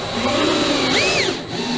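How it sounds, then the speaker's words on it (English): A power drill drives a Torx screw into the lid of an unpainted plywood swarm trap, a steady motor whine with a rising and falling pitch as the screw bites, continuous and close up with no talk. "I'm just screwing in the lid with my Torx drive screw."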